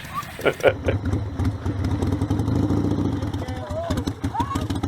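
A motorcycle engine revs hard as the throttle is cranked, a steady mid-pitched roar sustained under excited voices reacting over it.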